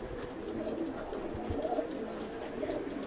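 Pigeons on a rooftop loft coo softly and repeatedly, several birds murmuring together with a low, rolling warble in a quiet space.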